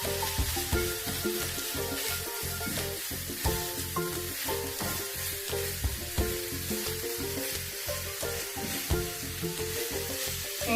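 Fish sizzles in a frying pan for a Kerala banana-flower fish thoran while a spoon stirs it in quick, regular scraping strokes. The crackle is loud, close and continuous, with no voices.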